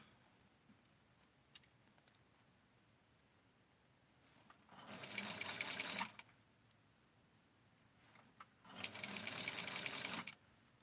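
Two short bursts of a sewing machine stitching fabric for a Barbie wedding dress, each about a second long with a whirring buzz, separated by quiet pauses and faint handling noise.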